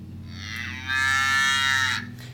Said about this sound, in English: Now anytime I tap that button, I'm going to hear a moo.